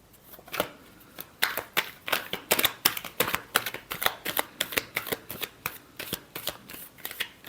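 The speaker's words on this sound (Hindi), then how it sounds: "Last shuffle." Tarot cards are shuffled by hand, giving a close, crisp run of riffling flicks and soft slaps that repeats in a quick, uneven rhythm.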